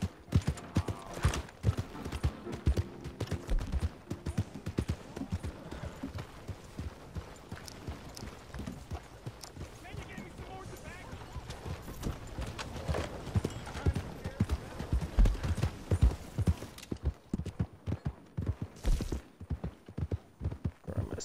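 Horse hooves clip-clop at a steady walking rhythm in the video game Red Dead Online, soft and continuous with a low background hum, growing slightly heavier toward the end.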